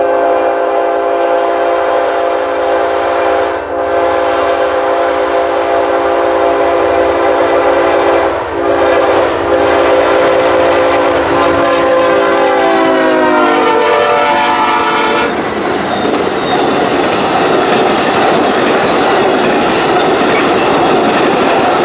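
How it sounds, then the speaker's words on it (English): An Amtrak California Zephyr led by new ALC-42 diesels sounds its horn in long loud blasts while approaching at 79 mph near Ottumwa, Iowa, then roars past with a rush of wheels on rail. "Amtrak trains pass this location at the passenger track speed of 79 miles per hour"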